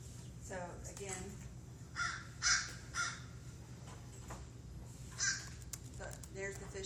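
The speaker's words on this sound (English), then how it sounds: "there's the fish crow again. So not quite as loud and raucous, but a little more nasally." Nasal cawing of a fish crow, several short calls in a loose series, moderately faint and less raucous than an American crow, over a low background hum.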